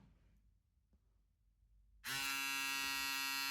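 VGR V-368 electric shaver switching on after a quiet stretch, then a loud, steady high-pitched motor buzz running continuously close by.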